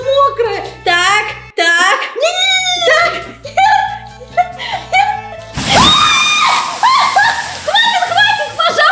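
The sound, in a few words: water splashed onto a person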